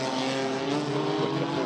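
GT race cars at the Macau Grand Prix on the approach to San Francisco Hill, one high-revving engine holding a loud, steady tone close by.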